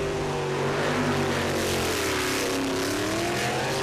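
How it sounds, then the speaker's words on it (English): A jetsprint racing boat engine roars loud and steady at high revs, its pitch sweeping slightly up and down as the boat races across the water. "listen for the engine note and look at the attitude of the boat"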